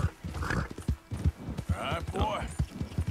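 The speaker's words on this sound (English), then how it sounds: "Horse is acting up a little bit over here." A horse in the video game Red Dead Redemption 2 whinnies while its hooves clop close by, under someone speaking briefly.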